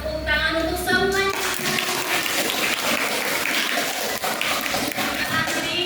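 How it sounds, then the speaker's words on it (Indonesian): Eighth-grade students in an Islamic religious education class clap together, a thick, steady patter of hands that rises right after a teacher's voice and continues to the end. "maka kita beri tepuk tangan untuk semuanya"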